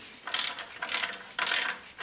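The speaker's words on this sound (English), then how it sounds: "I've got the belt back plate bolts back in" A ratchet clicks in three short bursts as belt back plate bolts are tightened on a DC 1260 machine, with each quick run of clicks separated by brief pauses, close and fairly crisp.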